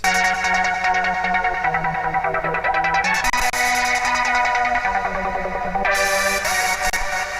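A synth melody plays with a pulsing filter sweep that opens and closes rhythmically, brightening in bursts while the notes continue underneath.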